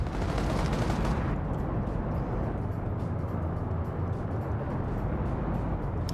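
Rapid bursts of video game gunfire crackle in a dense, continuous stream of shots during an armored-vehicle PvP wargame match, loudest at the opening and then steady.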